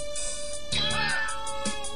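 A cat meows in the video game Paper Tiger, one clear, close, drawn-out cry with a shorter second mew near the end, heard over a constant electronic game tone.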